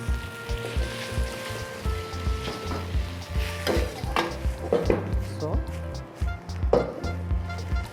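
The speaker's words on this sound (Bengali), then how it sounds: "তো এখন আমি এটাকে মিক্স করে দিচ্ছি, আর আমি দিচ্ছি কিছু সয়া সস।" Crispy chicken fried noodles are mixed with sugar and soy sauce in a pan, with continuous stirring and sizzling over a steady, rhythmic low background while someone talks.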